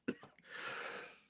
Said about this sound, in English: But I was trying to avoid the cough.